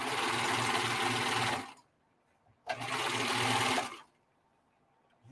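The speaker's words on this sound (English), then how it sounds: "Wow, it feels weird having a working serger." A serger sewing machine runs steadily in two loud, close bursts of about a second and a half each, separated by a short silent pause.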